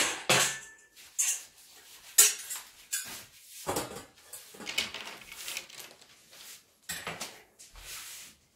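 A pot and colander are taken out and handled in a home kitchen while cooking rabbit in white wine, with a series of sharp metallic clanks and knocks at irregular intervals, close and clear.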